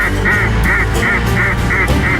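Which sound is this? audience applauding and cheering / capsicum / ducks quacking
ducks quacking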